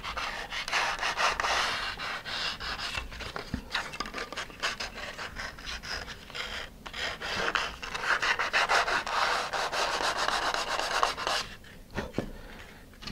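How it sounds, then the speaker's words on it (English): An edge of a model rocket canopy piece made to fit an Apogee PNC-56A nose cone is sanded by hand. Close, rhythmic rasping strokes of varying strength run throughout with brief pauses. "I'm just going to sand it so that it matches."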